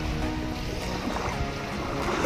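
A small fishing boat with a 7.5 horsepower outboard engine produces a steady, close droning rumble mixed with water noise, heard alone throughout.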